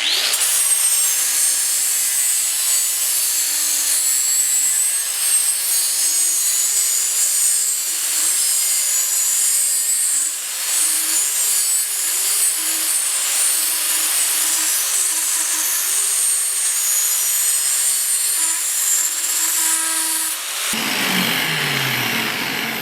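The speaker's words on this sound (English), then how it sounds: "Flapper disc, and just come on down to the line." A flap disc on an angle grinder working down to a marked line on a 1956 Mercury pickup, a loud continuous close grinding rasp lasting about twenty seconds before the tool spins down.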